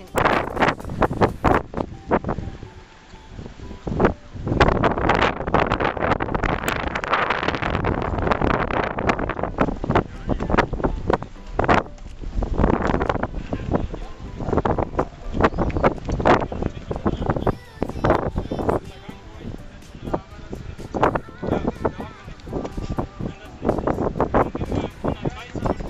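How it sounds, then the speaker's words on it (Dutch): Strong wind blows across a dike, buffeting the microphone in loud, irregular gusts and rumbles. Speech is mixed in with the gusting. "Er is genoeg wind."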